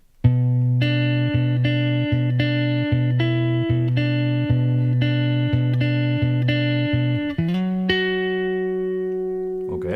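Clean electric guitar plays the opening two measures of a song, repeated sustained notes in a steady rhythm with a shift higher near the end, played alone without talking.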